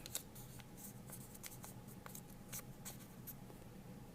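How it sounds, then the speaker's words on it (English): Scissors snipping through a small scrap of paper being cut into a rectangle, a series of quick, faint crisp snips at an uneven pace over a quiet background with no talking. "cut out a rectangular shape like this, and fold it in half."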